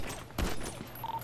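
Gunfire in GTA V roleplay erupts as a burst of shots around the middle, a short volley over ambient game noise with a faint tone near the end, no talking.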